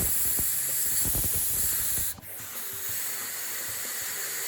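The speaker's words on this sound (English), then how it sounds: "I take my compressed air, hopefully you can see it, and I create the venturi to blow the air out." Steady close hiss of compressed air blowing fluid out of a bolt hole on a Gen 3 Hemi cylinder head, a continuous jet with a brief dip and sputter midway before resuming.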